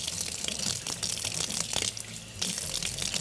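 Tap water runs steadily into a kitchen sink while hands are washed and rubbed after cutting garlic, a dense close splashing rush with slight shifts in the flow and no voices.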